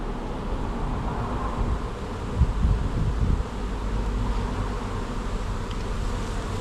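Bees fan at a hive box during a removal of a colony from a bin, a steady, dense buzzing hum throughout with a few louder close passes and some wind rumble.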